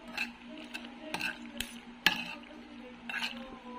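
Instant macaroni pasta is stirred in a cooking pot: a spoon scrapes and swishes steadily, with a few sharper clinks against the pot and a low background hum.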